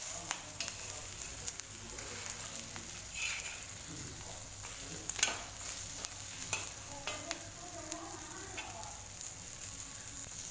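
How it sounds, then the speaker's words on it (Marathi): Capsicum bharit sizzles steadily in a pan while a spoon stirs and sautés it, giving soft scraping and crackling throughout. "याला असं सगळीकडनं परतवायचं"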